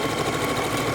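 A sewing machine runs in steady, continuous stitching while taking in the waist of a pair of pants, a close, even mechanical whir with no pauses over the short stretch.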